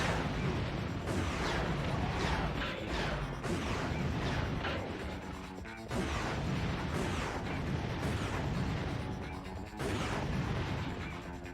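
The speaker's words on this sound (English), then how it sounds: "If I fire enough rockets, eventually everything but me will die." Rocket launcher fire in Ratchet & Clank: Going Commando, repeated loud blasts and explosions crashing together in dense bursts over several seconds, with short lulls between volleys.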